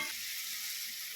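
Steady, fairly loud sizzle of water hitting a hot pan of frying Rupsa fish in oil, continuous and close for the whole moment with no talking.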